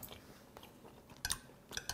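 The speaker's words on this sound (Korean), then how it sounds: "알갱이 하나하나가 너무 무르지 않고 씹을 때 탁탁탁 살짝 터지는 느낌" Bear shrimp roe chewed close to the mic, a quiet, soft mouth sound punctuated by a few sharp, crisp pops and crunches as granules burst, with no talking.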